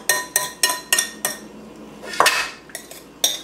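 Cauliflower pizza crust mixture spooned onto a greased pizza pan: a regular series of sharp, close metallic taps and clinks from a spoon against the pan, with one longer scraping sweep near the end and no voices.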